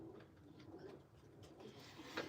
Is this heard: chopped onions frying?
no